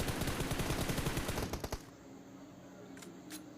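Rapid automatic gunfire rattles in a burst of closely spaced shots during a PUBG Mobile match. The shots cut off after about a second and a half, leaving near silence broken only by a couple of faint clicks.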